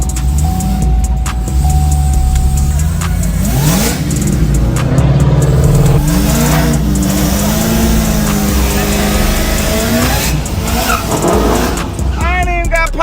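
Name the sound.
car accelerating making a pass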